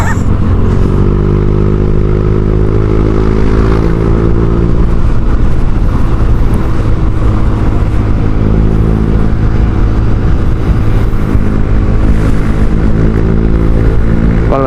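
A Honda Vario 150 scooter with a Kenziro aftermarket exhaust idles and revs nearby with a loud, deep throaty exhaust rumble, holding steady throughout.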